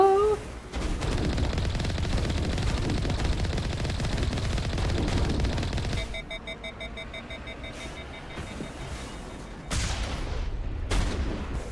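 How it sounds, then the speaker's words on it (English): Heavy cannon fire in the video game Mass Effect, a dense, loud sustained barrage of blasts with a sharp drop near the middle and a renewed burst toward the end. "Point blank cannon fire."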